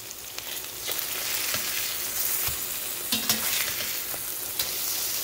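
Salisbury steak burgers frying in a pan, a steady bright sizzle with occasional pops and crackles over about five seconds, close and loud with no talking.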